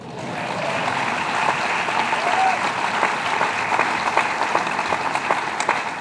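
Steady applause from an audience at a public event in Syracuse, a dense wash of many hands clapping that continues without a break from start to end, with faint voices mixed into the crowd.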